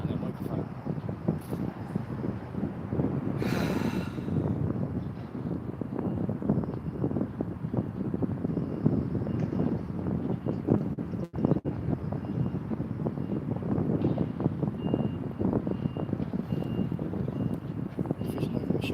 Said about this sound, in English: can feel that wind picking up now.